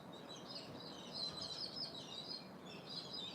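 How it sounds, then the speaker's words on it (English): Small birds chirp and twitter outdoors, faint and distant over a soft background hiss, with no talking. "You can hear the birds."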